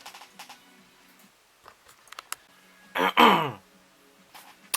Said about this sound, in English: I just kept coughing like crazy.